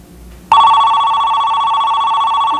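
A telephone starts ringing abruptly during a phone call, a loud, steady electronic trill that sustains after a quiet lead-in, close and alone with no talking.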